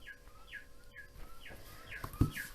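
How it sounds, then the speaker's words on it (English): Chirps from a bird clock sound in the background, several short descending tweets in a steady repeating pattern, faint and distant, with a soft thump near the end. "That's my clock in the background, if you can hear it. It's a bird clock."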